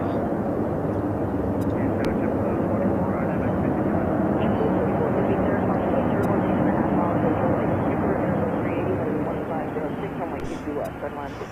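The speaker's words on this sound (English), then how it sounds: "This would be Emirates Flight 16RF, year of the 5th livery, is the ad that's on it." Emirates airliner arriving from Dubai at JFK airport, a steady loud engine roar filling the whole stretch, slowly easing toward the end with no clear talk.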